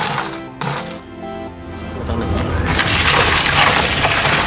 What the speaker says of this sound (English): I used an old CPU computer 20PCS in a plastic bucket.